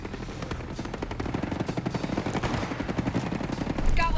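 Rapid automatic gunfire in the video game Ghost Recon Breakpoint, a dense, steady stream of rounds that grows louder toward the end, with brief voices mixed in.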